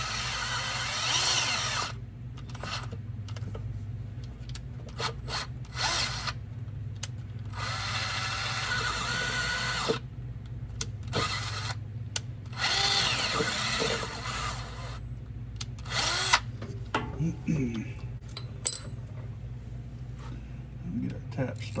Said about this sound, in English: you can kind of let the drill bit follow itself for the most part